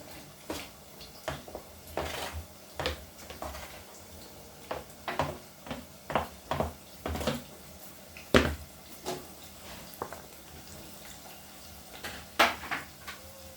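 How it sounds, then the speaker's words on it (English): A utensil scrapes and knocks against a pan while carrots, capsicum and minced meat are stirred together, giving irregular clinks and clatters spread across the stretch, moderately close with a quiet background. "Going to give that a good mix so that it can mix in with the minced meat"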